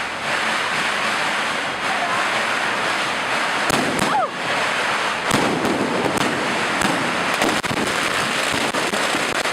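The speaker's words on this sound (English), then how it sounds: "set off fireworks and firecrackers, and we've been hearing those for a couple of days" Firecrackers and fireworks pop in the distance for Chinese New Year, a scattering of faint cracks and bangs behind steady wind-like outdoor noise.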